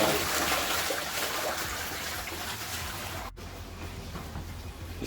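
A broken push-button toilet flushing, with a steady rushing and trickling of water that drops off sharply partway through and then continues more quietly.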